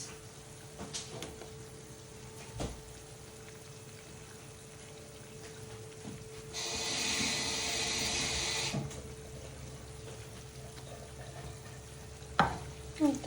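Turmeric powder and sliced green chilies are stirred into vegetables frying in a pan, a quiet scraping stir with a soft sizzle that swells in the middle, then a few clatters near the end.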